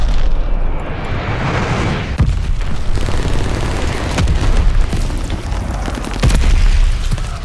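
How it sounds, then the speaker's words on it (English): Rolling explosions from a glide bomber airstrike in Call of Duty: Vanguard, a continuous loud wall of booming blasts with sharper impacts cutting through, no talking. "Glide bomber assist coming in."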